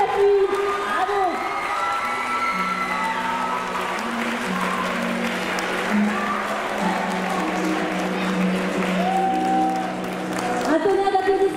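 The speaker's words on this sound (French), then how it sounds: "Un tonnerre d'applaudissements pour Mélodie." Audience at the Miss Nièvre 2025 beauty pageant applauds and cheers steadily for the second runner-up, a dense crowd roar with music and a presenter's voice mixed in throughout.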